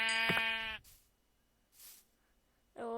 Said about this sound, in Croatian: Evo ovo će nam biti zadnja ovca koja će nam trebati za krevet